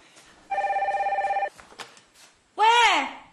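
A telephone rings in a domestic scene from a TV drama, giving one warbling, pulsed electronic ring burst of about a second. A short exclamation follows.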